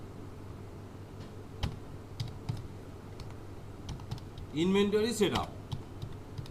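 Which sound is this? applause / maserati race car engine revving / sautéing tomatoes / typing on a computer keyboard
typing on a computer keyboard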